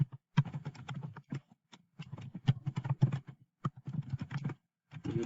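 Keys clatter on a computer keyboard as code is written, in close, irregular bursts of quick taps separated by short pauses.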